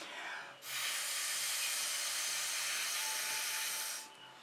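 A steady breathy hiss of air blown over fluid acrylic paint runs for about three seconds, close and fairly loud, with quieter room tone before and after.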